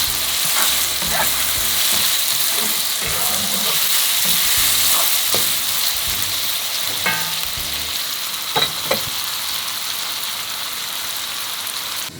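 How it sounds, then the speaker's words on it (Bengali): Duck meat fries with ginger and garlic paste in a pan for a spicy Bengali duck bhuna, giving a steady close sizzle broken by scraping stirs and spoon clatters. No voices. "এখন আদা পেস্ট, রসুন পেস্ট তো আমরা কষালাম"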